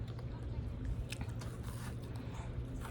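A crispy blueberry corn cake gets bitten and chewed up close, a few crunchy bites and wet chewing sounds mixed with low murmuring and background noise.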